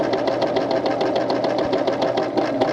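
A serger sewing machine runs steadily, stitching fabric mitts with a fast, even mechanical chatter close up, continuous for the whole stretch with no talk.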